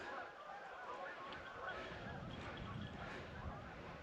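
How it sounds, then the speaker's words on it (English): Geese honk in the distance while landing on a loch in the Trossachs, Scotland, over a steady wash of outdoor noise, their calls faint and scattered rather than loud or close. "The geese down there just landing in the loch."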